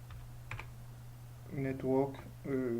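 Keys on a computer keyboard are tapped in short bursts while a network command is entered. The typing is quiet and close, with a voice speaking over part of it.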